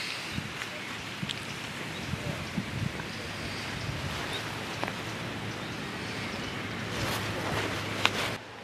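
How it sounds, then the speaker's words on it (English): Wind buffets a microphone at the water's edge during a bread-bait fishing session, a steady rushing roar with faint lapping of water and small knocks underneath. "It's very, very windy."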